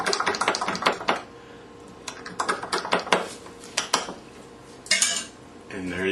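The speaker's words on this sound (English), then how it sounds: "You just give it a good stir." A spoon clinks and scrapes inside a glass or cup, stirring creatine or protein powder into a drink, with quick rhythmic taps in bursts, close and fairly quiet.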